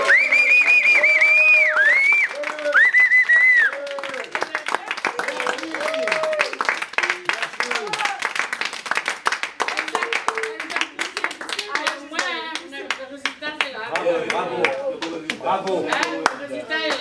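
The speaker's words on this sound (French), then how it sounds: "le dernier applaudissement, c'est pour quelqu'un qu'on aime tous" An audience at a theatre show claps in a fast, dense burst after a stretch of singing-like voices. Lively crowd clapping continues loudly, then gives way to overlapping chatter and voices near the end.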